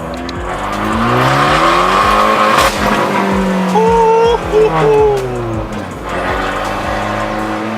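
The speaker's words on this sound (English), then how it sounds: "about to do a quick pull on first gear since I can't shift" A car accelerates hard in first gear, its engine revving up in rising sweeps with a brief dip partway. The loud engine note is close and sounds strained.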